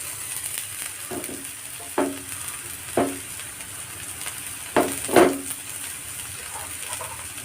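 Crushed garlic and ginger frying in a pan, a steady soft sizzle with a few stirring scrapes and clinks against the pan, close and fairly quiet.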